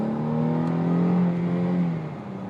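A Mercedes-Benz C350 sport sedan's engine hums and revs on a test drive, heard from inside the cabin as a steady, loud, smooth drone that swells briefly and then eases off, with no talking.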